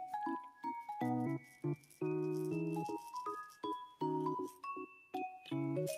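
Small, colorful decorative beads of varied sizes rattle and clink together in short bursts, with bright, clear ringing knocks up close and no voices.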